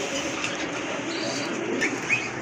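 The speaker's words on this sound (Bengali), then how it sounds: "এই যে দেখেন কবুতরগুলো মাশাল্লাহ খুবই বিগ সাইজের কবুতর" Pigeons at a pigeon market, large birds offered in pairs, with soft cooing and faint calls over a dense, steady murmur of crowd and market noise.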